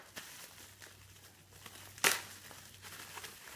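Plastic packaging around office chair seat levers being cut open: quiet rustling and handling noise, then one sharp, brief crinkling snip near the middle.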